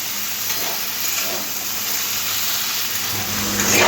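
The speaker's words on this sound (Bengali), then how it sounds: "ঢেঁড়শগুলো আলুর সাথে খুব ভালো করে ভেজে নেব" Okra and potatoes frying in a pan with poppy seeds, giving a steady close sizzle that swells slightly near the end, with no voices.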